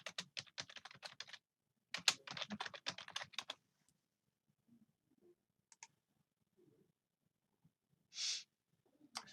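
Quick bursts of typing on a computer keyboard while entering a component search in circuit simulation software, close and alone, followed by a few sparse, faint clicks and a single brighter tap near the end.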